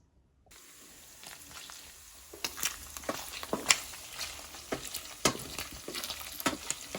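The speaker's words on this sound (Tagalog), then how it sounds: "Luto kong pansit guys." Pansit noodles frying in a pan, steady sizzle starting abruptly after a brief silence, with frequent clicks and scrapes of stirring scattered throughout at close range.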